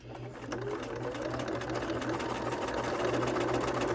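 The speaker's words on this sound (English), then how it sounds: "And then just sew." A sewing machine stitches trim onto a cross stitch pillow, its steady motor hum running continuously and close at hand, with no talking over it.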